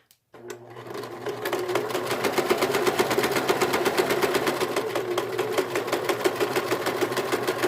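Domestic sewing machine zigzag stitching stretchy swimsuit fabric, starting from near silence with a click and then running in a steady, loud, fast mechanical rattle close by for the rest of the stretch, with no talk.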